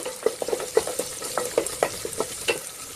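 Garlic fries in hot oil in a pan for brinjal tamarind kuzhambu, with a soft sizzle under a quick, regular run of spatula taps and scrapes, close and fairly loud.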